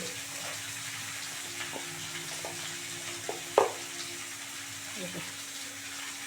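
Pangas catfish and young jackfruit frying in a pan, a faint, steady sizzle with a few soft clinks and a sharper knock, someone speaking softly over it.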